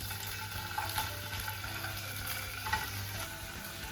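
Wood pigeon breast frying in a pan, a soft steady sizzle with a few light knocks and scrapes as it is turned, fairly quiet and close.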